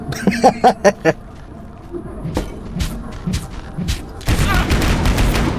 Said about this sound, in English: Oh god, the turrets.